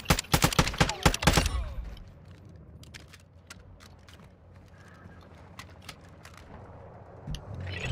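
A fusillade of gunfire in a military video game crackles loud and rapid at the start, then fades into scattered distant shots and faint clatter against a quiet background.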